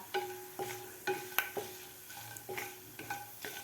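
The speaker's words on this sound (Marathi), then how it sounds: "एक मिनिटभर आपल्याला भाजून घ्यायचे आहेत हे खडे मसाले" Whole spices being dry-roasted and stirred in a pan give a soft, quiet sizzle, punctuated by regular clinks of a spoon against the metal pan roughly every half second.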